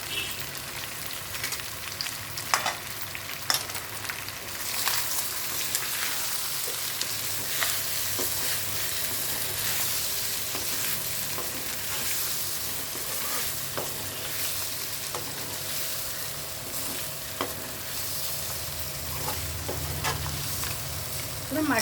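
Chicken frying in a pan with chili powder and salt gives a steady, moderately loud sizzle for over twenty seconds, broken by occasional spoon scrapes and clinks as it is stirred.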